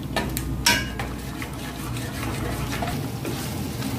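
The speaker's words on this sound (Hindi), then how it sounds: "थोड़ा थोड़ा चलाते रहना है, फुल फ्लेम पे पकाना है।" Curd gravy for Kashmiri dum aloo stirred in a pan over full flame, with a spoon clinking and scraping against the pan at close range in a few sharp knocks over a steady low bubbling simmer.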